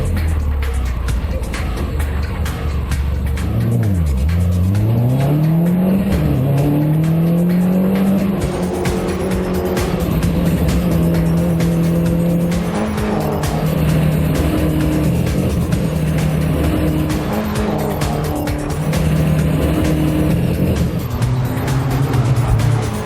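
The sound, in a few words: Mini Cooper race cars racing on a track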